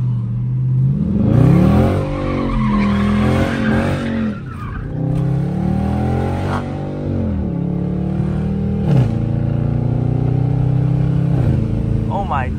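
Dodge Charger RT drifting through a U-turn, a loud revving engine pushed to redline with tires skidding and squealing, continuous and close, with wind noise and a voice talking over it.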